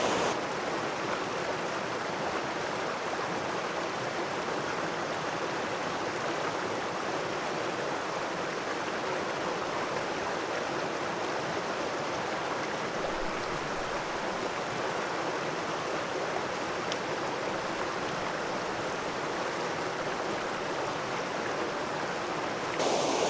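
Waterfall at Hindhope Linn with small cascades in the foreground, a steady broad rushing roar of falling water, close and constant throughout with no talking.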